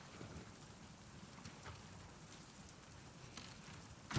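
Steady rain in the video game The Last of Us Part II pours down, a dense hiss with scattered drops pattering on surfaces, continuous and fairly close, with no voices.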